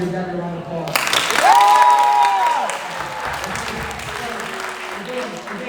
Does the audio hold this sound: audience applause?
yes